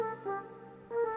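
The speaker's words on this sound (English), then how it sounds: "we go to the flute now. It sounds like this." Sampled flute tone from a Nexus software instrument in an Amapiano remix, playing two soft sustained notes, the second entering just before the end, heard alone and fairly quiet.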